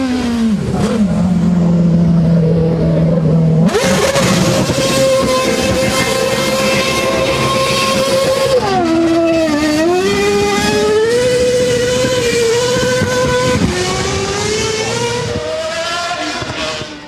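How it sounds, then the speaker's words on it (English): A former Red Bull Formula 1 race car, once driven by Vettel, screams loudly as its engine revs, the high-pitched whine rising and falling repeatedly through gear changes and throttle blips over about seventeen seconds with no talking. "Liam Lawson, who drove Vettel's old F1 Red Bull car"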